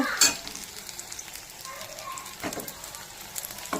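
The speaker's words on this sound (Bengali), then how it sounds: "তো এই যে দেখো ভাজা হয়ে যাচ্ছে" Banana flower and coriander fritters fry in a pan of oil, making a continuous bubbling sizzle close up with occasional louder pops and spatters.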